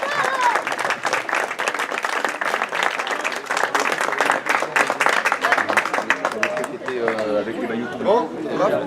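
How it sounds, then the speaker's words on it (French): An audience at a cycling stage-race awards ceremony claps loudly and close by in a sustained burst of applause mixed with crowd chatter, and voices come through more clearly as the clapping thins near the end. "On peut les applaudir."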